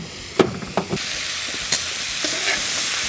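Onions, mushrooms and other vegetables for a cheesesteak pizza fry in a hot pan, giving a steady close sizzle and hiss broken by a few sharp stirring scrapes and clatters, with no talking.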